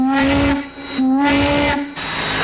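An old steam locomotive being brought back up to pressure gives off a loud, steady hiss of steam with a sustained whistling tone riding on top. The sound briefly dips twice, with no talking.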